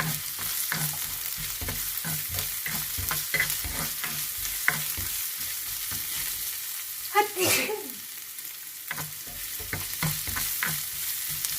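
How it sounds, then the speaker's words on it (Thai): Carrots stir-frying in a hot pan: steady sizzling with repeated scraping and tossing strokes, one brief louder clatter midway, no talking. "สาวจะใส่แครอทลงไปผัดในตอนนี้เลย"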